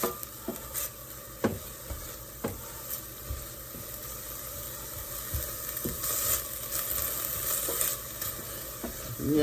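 Onions and peppers sauté in a pot for a beef stew, a loud steady sizzle broken by repeated scraping stirs and clinks of a utensil, close and without talk.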